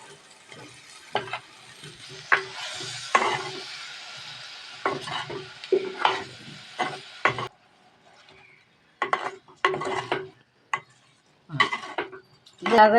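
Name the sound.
soybean chunks being stirred and sautéed in a pan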